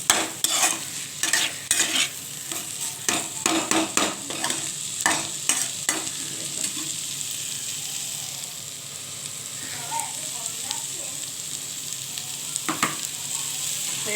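Fish roe stir-fried in a pan for bhujia: a busy run of scraping, clattering spatula strokes over a constant sizzle, the stirring thinning out and leaving mostly steady frying hiss toward the end.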